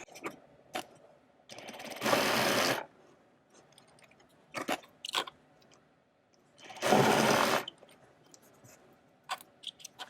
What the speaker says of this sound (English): I'm going to stitch down both folded edges.